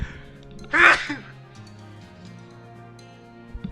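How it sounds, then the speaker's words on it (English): A single sharp sneeze from a man, loud and brief near the start, followed by quiet background sound. "I feel a sneeze coming on. Let me sneeze."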